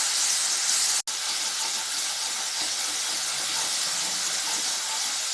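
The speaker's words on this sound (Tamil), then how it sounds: "இதுவும் சேர்ந்து நல்லா வதங்கட்டும்" A steady, loud hiss of spices frying in a hot pan, continuous throughout with one brief cut near the start.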